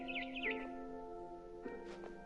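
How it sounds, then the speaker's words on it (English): Barn swallow chirping outside a window in the video game What Remains of Edith Finch, a couple of short quick warbling trills near the start and another faint twitter later, clear over quiet background. "Then I heard chirping outside my window. It was a barn swallow going back to her nest."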